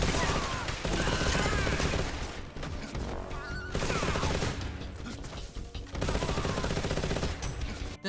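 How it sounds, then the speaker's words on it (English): AK rifle fire in Metal Gear Solid Delta: Snake Eater, loud sustained bursts of automatic gunfire with brief gaps, layered over game music and effects. "if you want to just also grab out an AK and slaughter everyone you see"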